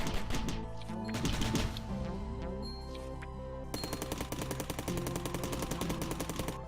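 Rapid semi-automatic blade gun fire in the Cally's Trials video game, a dense run of sharp repeated shots over busy game music, steady and loud throughout.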